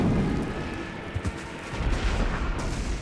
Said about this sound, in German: Den Kanonendonner hatte man fast im ganzen Land gehört.